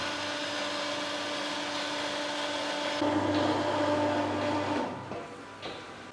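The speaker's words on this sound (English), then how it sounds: "So we have to drain the pump first." A milking machine pump in a dairy parlor for a 190-cow herd drains, its steady mechanical whir droning continuously, then getting louder and lower midway before tapering off near the end.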